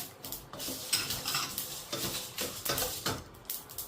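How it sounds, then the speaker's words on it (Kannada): Poppy seeds sizzle and splutter in a hot pan of oil, a busy crackling texture with irregular pops and occasional stirring scrapes, steady and close, with no talk. "ನೋಡಿ, ಎಲ್ಲ ಸಿಡಿದು ಬರ್ತಾ ಇದೆ ಗಸಗಸೆ ಎಲ್ಲ"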